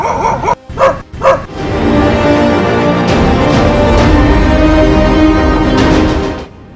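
Street dogs barking loudly, a few sharp close barks at the start followed by a continuous dense din of many dogs yelping and barking together, with no talk.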